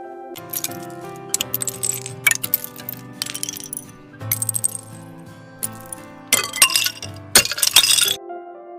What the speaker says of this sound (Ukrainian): звуки відлиги, коли бурульки розстають і падають з дахів